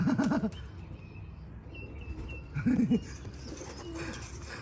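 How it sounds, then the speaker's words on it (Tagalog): A young bato-bato dove gives two short bursts of soft, low cooing a few seconds apart, with faint chirps and background noise between. "Ay, young bird na bato-bato."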